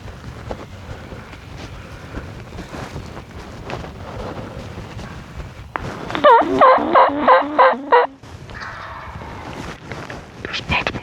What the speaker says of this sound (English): there's a turkey in front of us